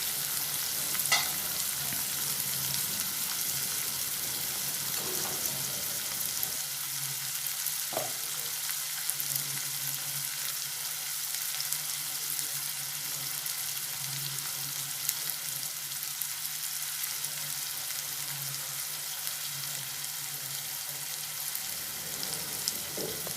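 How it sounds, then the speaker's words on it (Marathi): Onion, tomato and green chili frying in hot oil in a pan for paneer bhurji gravy, a steady soft sizzle running throughout with occasional scrape of stirring, close and moderately loud, no talking. "टोमॅटो चांगला सॉफ्ट होईपर्यंत परतवायचा आहे।"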